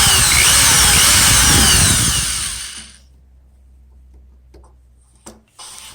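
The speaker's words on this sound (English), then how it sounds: "I'm using a small drill bit in my drill to drill the post" A power drill whines loudly as it grinds into metal for a few seconds, then stops, leaving faint clicks and a short final buzz.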